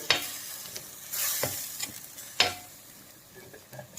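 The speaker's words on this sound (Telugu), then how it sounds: "రెండు స్పూన్లు అల్లం వెల్లుల్లి పేస్టు ఈ పచ్చివాసన పోయేదాకా వేయించుకోవాలి" Ginger garlic paste frying in a clay pot while being stirred, a steady soft sizzle broken by several sharp scraping and clinking strokes from the spoon, close up and with no speech.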